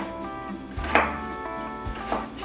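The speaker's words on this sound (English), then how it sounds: "Cut that onion" A knife chops onion on a cutting board in the kitchen: a few sparse, close cuts and knocks, one sharper chop standing out, with a low steady background hum.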